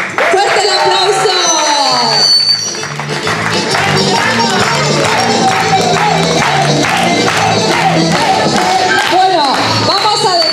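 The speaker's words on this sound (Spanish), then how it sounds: "¡Fuerte el aplauso!" A crowd claps at a kindergarten's end-of-year show, with dense, continuous applause mixed with loud voices and cheering.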